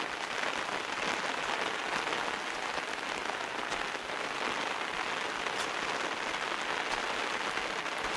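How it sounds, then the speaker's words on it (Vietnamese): Rain falling on a muddy path into a village in Nghe An: a dense, even patter of drops on the ground and leaves, steady and close throughout with no voices. "Mình đi ở dưới những cơn mưa như này"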